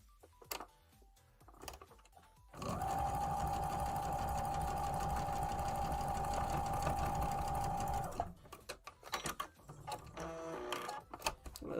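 A sewing machine stitches in one steady, close, continuous run of rapid mechanical whirring for several seconds, framed by scattered handling clicks and knocks before and after.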